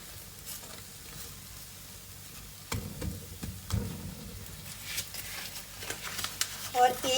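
A roti on a hot pan, brushed with ghee, sizzles softly at first and then crackles more busily toward the end, heard close with someone talking over it.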